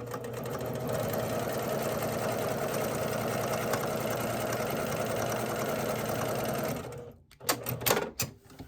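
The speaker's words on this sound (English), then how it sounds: "I'm going to sew another line right down there." A home sewing machine stitches a straight seam line across a quilt, its fast steady needle chatter running continuously at close range before stopping, followed by a few light clicks and handling sounds.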